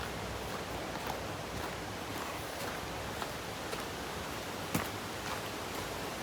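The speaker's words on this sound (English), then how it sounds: "I'm hearing the water." A mountain stream flowing near a trail in the Smoky Mountains, a faint, steady broadband rush of water with no voices.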